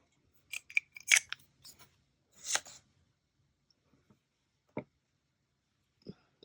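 Scissors snip a yarn tail during crochet work on a baby waffle sweater: a few close, crisp cutting clicks, then quiet with a couple of isolated soft ticks, no talking.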